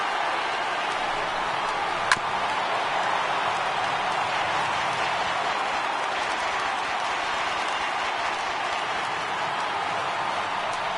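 A capacity stadium crowd of baseball fans in Baltimore roars in MLB 18, a broad, steady wash of cheering and noise held at even loudness throughout, with one sharp crack near the start.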